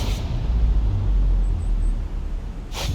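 Supercharged 7-litre V8 car engine in Forza Horizon 4, built to over 1,000 horsepower: a deep, loud, steady low rumble idling close by, with a brief hiss near the end.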